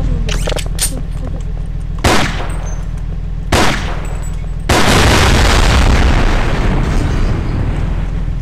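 Explosions in the first-person shooter Operation Black Thunder, likely barrels blowing up: three loud, sharp blasts, the last followed by a long rumbling roar, over steady game background noise.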